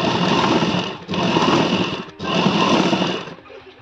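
Sewing machine running in three loud, steady bursts with brief pauses between, stitching a second parallel line two threads apart on a bra-cut blouse; no voices.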